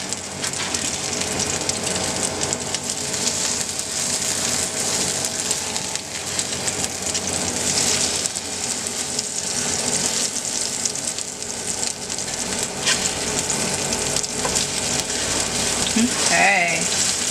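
Potato latkes frying in hot oil in a pan, a steady, dense crackling sizzle that runs continuously, with a soft scrape near the end.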